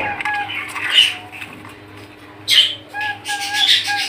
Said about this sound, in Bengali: খুবই সুন্দর চমৎকার একজন টিয়া পাখি দেখতে পাচ্ছেন